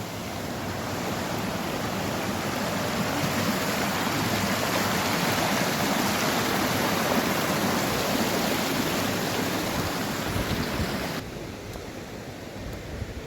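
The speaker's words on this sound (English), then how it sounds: "it is really raining" Heavy rain pours down at Kiserian Dam, Kenya, in a dense, steady hiss that goes on throughout, easing slightly in the final couple of seconds.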